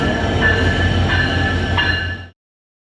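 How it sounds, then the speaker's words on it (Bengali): A train rumbles loudly past a village, a steady, heavy roar with faint rhythmic wheel clicks and a high squeal before the sound cuts off abruptly. "দেখেন ট্রেন কিন্তু চলে আসছে বলতে বলতে।"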